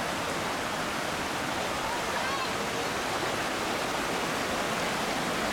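Zapata Falls pours in a steady, full roar of rushing water during high spring flow, a dense continuous wash close by with no break or other sound.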